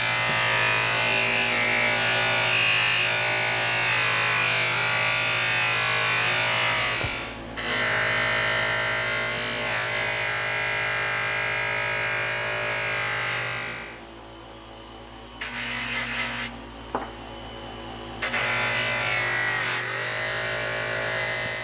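Steady electric buzz of a polishing tool working on a Williams H51 3/4-inch Superratchet, loud and continuous, dropping out briefly a few times before resuming.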